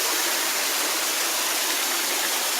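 Steady broadband rush of a waterfall along the Palm Canyon Trail in Palm Springs, a constant close wash of falling water with no break and no voices.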